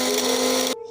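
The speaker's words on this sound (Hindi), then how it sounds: "अब हम इसको ग्राइंड करेंगे" A kitchen grinder whirs loudly and steadily as it grinds white barley, with a bright motor whine that cuts off sharply near the end of a one-second burst.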